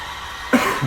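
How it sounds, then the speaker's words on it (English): A single sharp cough bursts out after a half-second of quiet room tone, close and loud, followed by a smaller second cough. "Oh, I'm gonna be coughing a lot."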